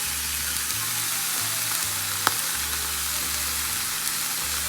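Spiced vegan enchilada filling sautés in a pan with chili pepper, cayenne and garlic powder, giving a steady, soft sizzle with faint clicks and a low hum beneath, no voices.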